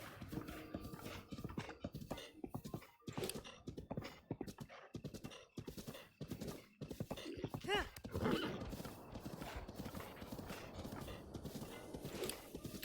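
Horse hooves clip-clop steadily in Zelda: Breath of the Wild, with a whinny rising in the middle, all mixed with game sounds and some talk.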